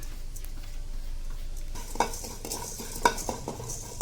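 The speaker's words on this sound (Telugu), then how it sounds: "ఇప్పుడు ధనియాలు, జీలకర్ర వేగాలండి" Coriander seeds and cumin seeds dry-frying and being stirred in a pan, a soft steady crackle and sizzle with two sharp louder pops or scrapes partway through, no talking.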